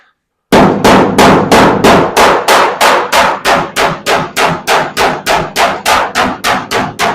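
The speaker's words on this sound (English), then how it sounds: "I was tapping stuff with my hammer" Steady, rapid hammer blows ring out on metal bodywork of a 1970 Challenger, about three strikes per second, loud and close with a sharp metallic clang each time.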